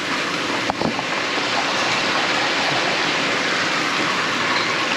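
Rainwater pours steadily into a first flush diverter on an off-grid RV tiny house harvesting setup, a continuous loud broadband rushing with a brief knock near the start and no talking.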